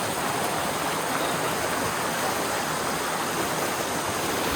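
Panguil River in Majayjay, Laguna rushes past close by, a dense and constant broadband roar of flowing water that stays loud and steady throughout.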